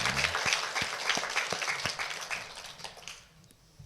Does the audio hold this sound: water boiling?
no